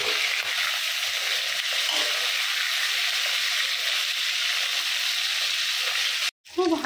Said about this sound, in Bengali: খুব হালকা করে মাছটা ভেজে নেবো, ভেজে তুলে নেবো